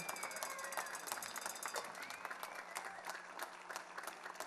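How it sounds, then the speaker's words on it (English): An audience at a college jazz band concert claps steadily and continuously, a dense patter of applause at moderate distance with no pauses. "Round of applause for the band this evening."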